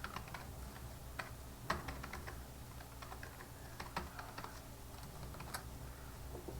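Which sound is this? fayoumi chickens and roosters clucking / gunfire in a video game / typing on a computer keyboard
typing on a computer keyboard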